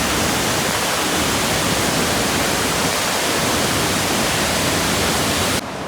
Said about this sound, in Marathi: वरच्या धबधब्याचं पाणी बघा केवढं पालाटे असतात